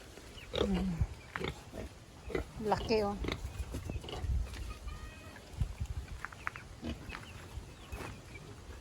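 Pigs grunt and snort in short bursts nearby, mixed with occasional squeals, while a person speaks briefly.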